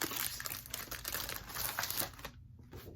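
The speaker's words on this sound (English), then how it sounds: "Sorry for the paper noise." Paper crinkling and rustling while cross-stitch sampler charts are handled, close and continuous with small crackles before it fades near the end, and no voice over it.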